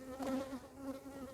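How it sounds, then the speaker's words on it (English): Bees buzzing close by around a beehive during an inspection, a steady droning hum that rises and falls slightly as they fly near. "I still got bees trying to get at me"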